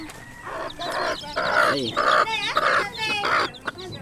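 Small chickens cluck and squawk in a busy, continuous run of short calls, fairly close, with a brief word spoken over them.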